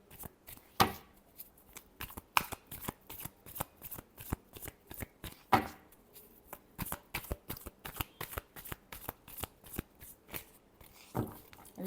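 Tarot cards riffled and shuffled in quick, crisp bursts, a long run of sharp papery flicks with brief pauses between rounds, close and fairly quiet with no talk.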